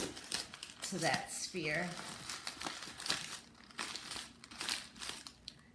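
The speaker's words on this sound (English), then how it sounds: "I'm just going to do a layer of tape to" Tape is wrapped around the sphere-shaped armature for a clay bust, with repeated crinkling and tearing bursts close by under steady talk.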